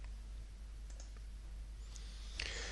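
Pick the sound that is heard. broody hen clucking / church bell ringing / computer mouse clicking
computer mouse clicking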